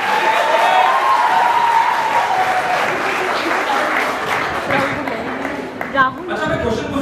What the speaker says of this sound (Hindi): तो एक बार जोरदार ताली हो जाए मेरे लिए